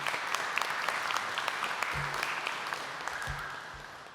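Sustained applause from a large audience at a university graduation ceremony, a dense even patter of clapping that fades slightly toward the end, with a few low thumps underneath.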